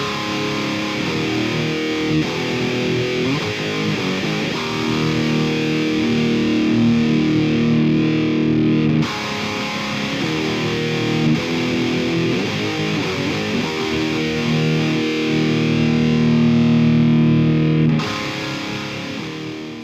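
Heavily distorted rhythm electric guitar plays a riff, with thick sustained chords ringing loud and continuous and briefly cutting off between phrases.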